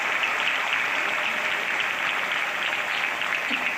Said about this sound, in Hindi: जोरदार तालियां माननीय यशस्वी मुख्यमंत्री शिवराज सिंह जी चौहान के लिए